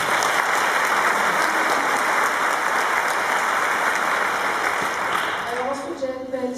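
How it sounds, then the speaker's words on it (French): An audience applauds Sylvain Braun at a film preview, dense steady clapping throughout that thins slightly near the end as voices begin to emerge. "Sylvain Braun, on l'applaudit."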